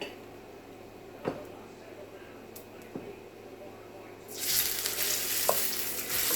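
Rice with Spam starts frying in a pan, a few faint clicks and taps giving way to a sudden loud sizzle and stirring toward the end.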